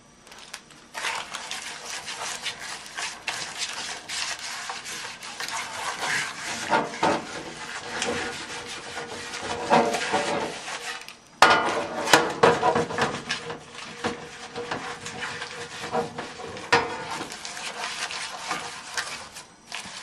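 Continuous scraping and rubbing as butter is spread over a metal baking pan, uneven strokes with occasional knocks, close up and without talk.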